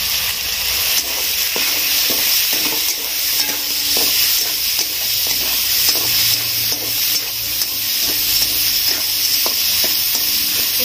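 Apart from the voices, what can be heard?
chicken frying and being stirred in a pan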